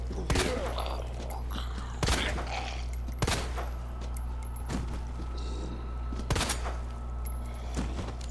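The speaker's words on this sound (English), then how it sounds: "Leon's gangster pistol" Leon's pistol in Resident Evil 2 fires several separate sharp gunshots at irregular intervals over a low steady hum, with faint rustling in between.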